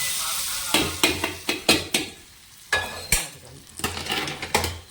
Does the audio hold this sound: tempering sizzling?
yes